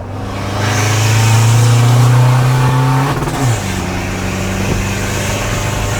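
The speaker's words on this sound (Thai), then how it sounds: "ใส่เกียร์สามเลยตรงนี้ทางตรง ไป" A tuned car engine roars close and loud as it accelerates hard in third gear down a straight, rising steadily in pitch, then dipping briefly at a shift before pulling on.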